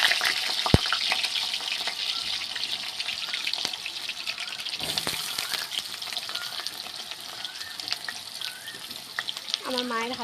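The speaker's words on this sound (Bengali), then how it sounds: "এই যে এবার আলু দিচ্ছে।" Potatoes drop into hot oil tempered with spices in a home kitchen, and a steady close sizzle and frying hiss follows, with occasional stirring clinks and a few quiet voices in the background.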